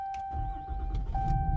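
A 2022 RAM 2500 AEV Prospector XL Limited pickup truck engine starts up, a low rumbling turnover settling into a steady idle close by, with a thin electrical tone running over it.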